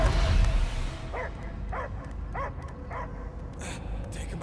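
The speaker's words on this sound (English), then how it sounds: "I hear only barking" A dog in the Guardians of the Galaxy video game gives a short series of evenly spaced barks and yips over a dense game soundscape.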